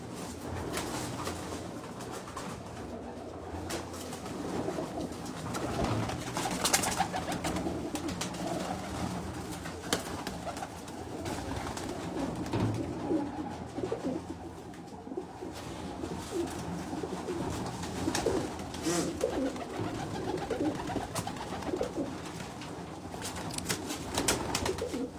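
Pigeons coo repeatedly amid steady outdoor background noise at a garden gathering, moderately near, with no clear talk.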